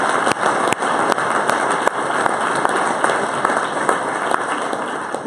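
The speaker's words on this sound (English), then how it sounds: "I want to give them a big round of applause" A dense, steady round of applause from an audience at a wing promotion ceremony, many hands clapping together at an even, sustained level throughout.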